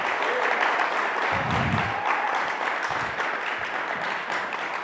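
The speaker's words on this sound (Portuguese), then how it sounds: "vamos dar um aplauso para Jesus por mais esse ano aí que Ele nos deu" A church congregation applauding, a sustained even patter of many hands clapping at moderate loudness, with a few lower thumps partway through.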